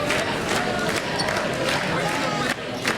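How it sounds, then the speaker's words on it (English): Students and staff at North Central High School cheer their boys basketball team off to the state tournament, a dense wash of crowd noise and scattered shouts that fills the space steadily, with a few sharp bursts rising above it. "We watch students and staff cheer on their boys basketball team as they send them off to state"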